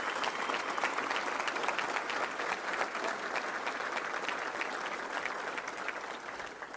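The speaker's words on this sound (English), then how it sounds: "So let's give a round of applause for that." An audience at a Little Rock Touchdown Club luncheon applauds steadily, a dense wash of many hands clapping at even loudness throughout, with no voices over it.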